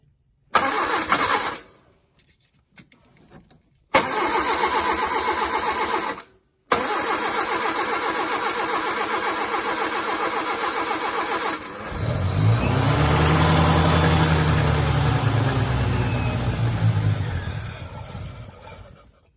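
A Mk2 Humber Sceptre car engine being recommissioned, with the choke not yet regulated, cranks in several short bursts, then catches and runs steadily before rising to a louder, rougher idle near the end.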